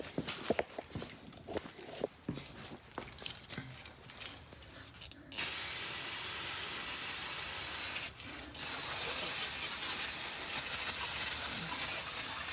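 A can of aerosol brake cleaner sprays onto the rear brake caliper of a 9th-generation Honda Civic Si: after some clattering handling, a loud, steady hiss runs for several seconds, breaks off briefly, then resumes.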